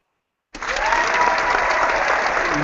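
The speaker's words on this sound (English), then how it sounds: "Let's applaud those fans." Hockey fans at a Sharks versus Jets watch event break into sudden, steady applause that starts after a brief silence and keeps going, loud and close.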